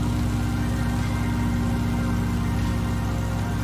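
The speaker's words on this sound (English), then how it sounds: "that Stearman's loud right in my ears" A Stearman biplane engine in a flight simulator roars steadily and loudly, sounding right at the ears, as a dense continuous drone with a low throbbing pulse and no speech.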